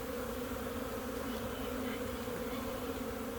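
A steady, dense hum of many bees swarming around an open beehive during a spring inspection, a continuous buzzing drone that fills the scene at close range with no talking.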